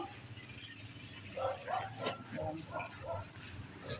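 A small dog yips and barks in a quick series of short, high bursts, fairly near, over a muffled background hum.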